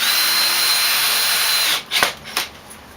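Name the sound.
power drill driving screws during assembly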